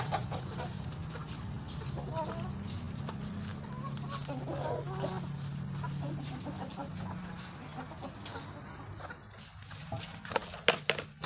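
Chickens at feeding time clucking steadily in a close flock, overlapping soft calls over a low hum, with scattered pecking and patter noises and a few sharper knocks near the end.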